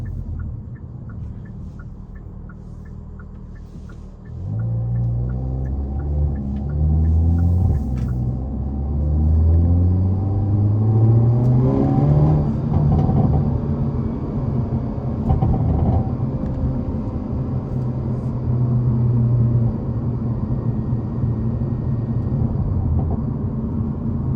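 Stock exhaust of a Hyundai Elantra N heard from inside the car while driving at night, a low continuous rumble that swells and rises in pitch as the engine revs, steady and fairly loud with no talk.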